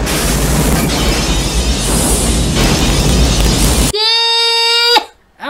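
A sustained roaring blast rumbles for several seconds, then cuts off abruptly into a brief, high, tonal squeal.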